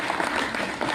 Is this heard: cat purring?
no